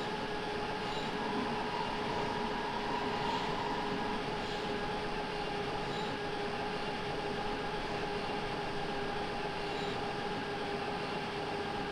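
A Berlin U2 subway train from Microsoft Train Simulator runs continuously with a steady rumble, a wheel and motor hum, and faint tonal whine throughout, without any voices.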